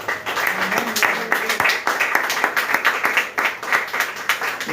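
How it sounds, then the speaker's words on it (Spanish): A church congregation applauds in praise of Christ, steady dense clapping throughout that rises and falls slightly in loudness, close and continuous. "Y un aplauso al Señor nuestro pastor, Cristo bendito."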